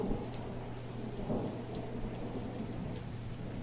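Steady rain patters and hisses continuously with a faint low rumble underneath, no voices, at a moderate, even level.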